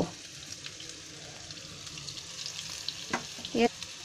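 Flour-coated bone-in chicken pieces fry quietly in a pan, a faint steady sizzle with a few soft clinks and a brief louder clatter near the end.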